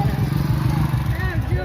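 A motorbike engine idles and putters close by in a steady, rough drone. A voice talks over it.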